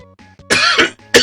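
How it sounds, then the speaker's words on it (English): A man coughing and clearing his throat close to the mic, two harsh rasping bursts with a short gap between them and a brief hum before the first. "I'm gonna mute the mic while I clear my throat"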